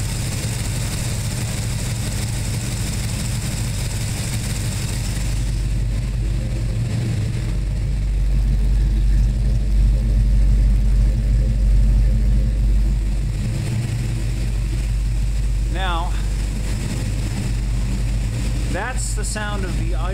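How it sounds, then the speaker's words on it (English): A car engine idling after Pulstar plasma core spark plugs replaced AC Delco R45 TSX plugs, a steady low rumble that is fairly loud and close, swelling slightly in the middle, with a few brief sharper noises near the end. "Sound of the idle after I put in these Pulstar plasma core spark plugs in place of my original AC Delco R45 TSX plugs"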